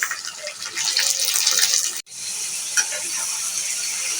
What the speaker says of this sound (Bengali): পেঁয়াজটা ব্রাউন কালার হয়ে গেছে, এখন আমি মাংসগুলো দিয়ে দিচ্ছি।